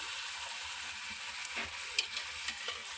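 Karchikai frying in hot oil, a steady loud sizzle throughout with a few faint clinks and stirring touches, no voices.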